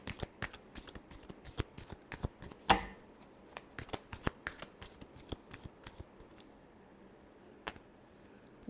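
Tarot cards shuffled by hand in a steady run of crisp riffling flicks and slaps, close and clear, with one louder snap partway through and sparser taps toward the end.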